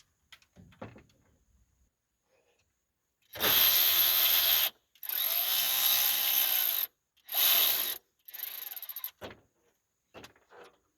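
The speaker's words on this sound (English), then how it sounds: "we'll go ahead and take the bolts out of the fuel pump" A ratchet wrench loosens and backs out the fuel pump bolts on a 1978 Chevrolet C10 with a 305 engine, making several loud bursts of rapid clicking separated by short pauses, with no talk.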